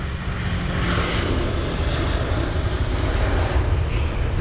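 A Delta Airbus A330neo airliner passes at London Heathrow during stormy weather, a loud, steady engine roar holding throughout with a broad rushing tone and no voices.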